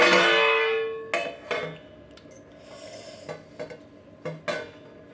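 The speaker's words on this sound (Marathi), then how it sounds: "आता मी हे ताटात काढून" Steamed chana dal and rice dhokla is turned out onto a plate, with a few sharp metallic clanks and scrapes of the pan against the plate, separated by quiet gaps.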